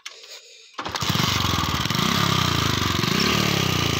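After a moment of quiet, a motorcycle with no foot brake starts up on a rough dirt track near Sandakpur, then runs with a loud, close, throbbing engine.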